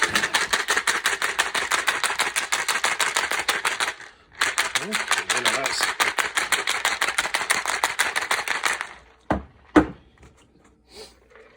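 Rapid, steady rattling of ice being shaken in a cocktail shaker for a Kahlua drink, two long runs separated by a short break, ending with a few knocks.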